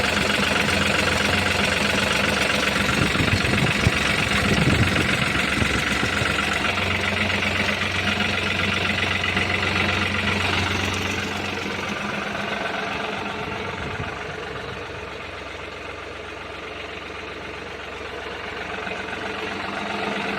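A New Holland 3600-2 tractor engine idles with a steady, close mechanical rumble and a faint knocking throb that eases slightly in loudness partway through.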